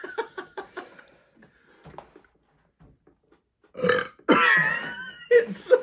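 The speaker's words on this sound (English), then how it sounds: "You force in a burp, and then you swallow the burp." Loud, drawn-out burps after eating mac and cheese washed down with Coke, a rough stuttering belch followed by a longer, louder one near the end, alone with no talk over them.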